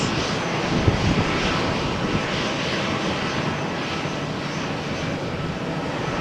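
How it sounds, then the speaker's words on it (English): An EasyJet airliner taking off on runway 13 at Malaga Airport on a stormy morning, a broad steady engine roar that holds at a constant, moderately loud level throughout. "Let's follow takeoff speed 40, 60 knots, 70 knots."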